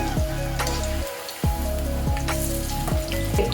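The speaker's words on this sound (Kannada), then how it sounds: "ಇದು ದೊಡ್ಡ ಪತ್ರೆ ಈರುಳ್ಳಿ ಎಲ್ಲ ಕರಿಬೇಕು ಬೇಗ ತೆಗಿಬಾರ್ದು ಇದು ನಾನು ಕೊಬ್ಬರಿ ಎಣ್ಣೆಯಲ್ಲಿ ಕರಿತಾ ಇದ್ದಿದ್ದು" Onions and large patra fry in coconut oil with a steady, dense sizzle, broken by a few clattering stirs and a brief lull, with no talking.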